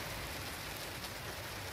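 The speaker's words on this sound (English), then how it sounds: "sun's shining and it's raining" Steady rain falls in a sunny Texas shower, a continuous broadband hiss of drops on surfaces, fairly close and unbroken, with no voices over it.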